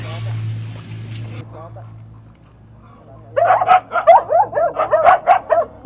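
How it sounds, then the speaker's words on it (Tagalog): A dog barks repeatedly while chasing, a close run of sharp yips and barks in the second half, with a low engine hum earlier and voices talking. "Ayun yung aso. Nahahabol."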